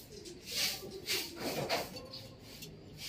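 Pet pigeons, including Imbric and Florison birds, make soft cooing calls in a loft. The calls come as a few faint, close murmuring phrases over a quiet rustling background.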